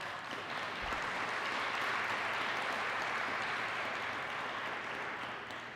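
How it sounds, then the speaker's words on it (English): An audience at a conference general session applauds, a steady wash of clapping from many hands that holds at an even level for several seconds at a moderate distance, with no talk over it. "Please clap for that."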